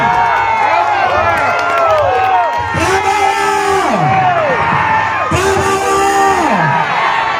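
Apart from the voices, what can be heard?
crowd clapping and cheering at party office inauguration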